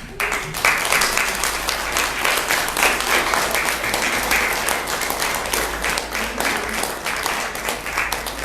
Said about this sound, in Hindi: तो इन तालियों के साथ आप सबका ये मान सम्मान माननीय वर्मा साहब को जा रहा है।